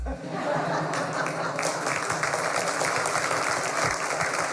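Audience applause at an order-signing event, a dense steady wash of clapping that runs throughout, with some chatter and laughter mixed in underneath.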